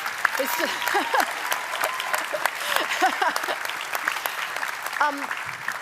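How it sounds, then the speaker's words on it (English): An audience at a climate-law oration claps in a sustained round for the speaker, moderately loud, with a few voices and cheers rising over the steady patter. "Can we just give Cynthia another round of applause, please?"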